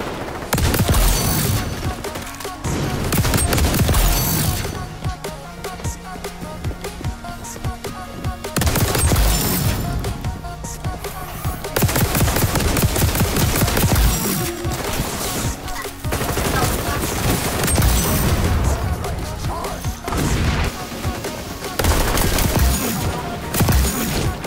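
Shotgun fire rings out in the XDefiant shooter game: repeated loud, punchy bursts of gunfire come in clusters with brief gaps between them, and a voice talks now and then over the shooting.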